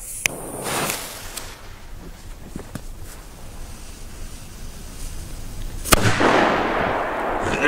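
A Funke China Böller C firecracker goes off with a sharp, loud bang late in the stretch, after scattered smaller pops and a background hiss, then a noisy rumbling tail follows it outdoors.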